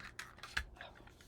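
A small paper stub punch snipping off a paper corner: a quiet, brief scrape and a single sharp crisp clip, close by and faint.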